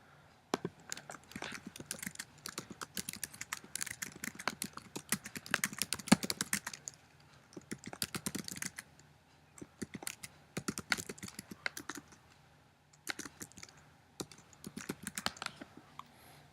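A computer keyboard is typed on in quick bursts of close, crisp key clicks, pausing briefly between phrases, with no talking.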